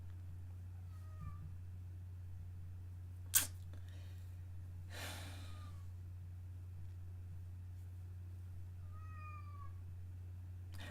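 A cat meows faintly indoors a few times, with short cries spread through the clip over a steady low electrical hum and one sharp knock.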